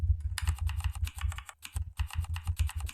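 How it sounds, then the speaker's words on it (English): Keyboard typing sound effect in a chat app, a steady, fairly loud stream of crisp key clicks with a brief pause midway. "I can get this keyboard sound once I type in"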